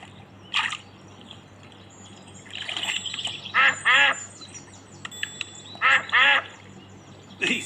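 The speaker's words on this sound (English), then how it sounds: "We are at the pond, and here come the ducks." Cartoon ducks quack at a pond in a Peppa Pig video game, in short bright bursts of two or three quacks scattered across the clip over a quiet background.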